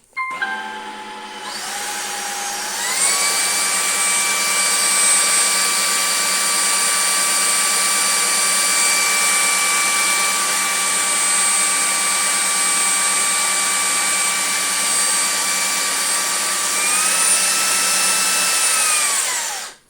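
A loud vacuum cleaner, a Jimmy HW 10, whines steadily for nearly twenty seconds, its motor pitch rising at start-up and shifting briefly near the end before cutting off.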